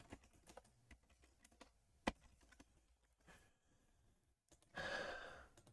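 Fingers type on a computer keyboard in scattered, quiet keystrokes with short pauses, one sharper tap midway, and a soft breath or sigh near the end.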